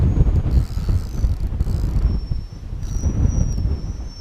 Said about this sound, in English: This wind's getting up again.